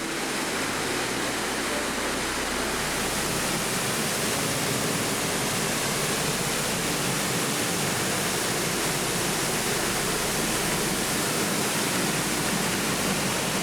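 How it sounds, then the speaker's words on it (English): Magura Waterfalls, also called Queen's Cave, in the Aberdares forest, a powerful unbroken roar of rushing, falling water that stays loud and steady throughout with no voices. "We decided to start with Magura Waterfalls, which is also referred to as Queen's Cave."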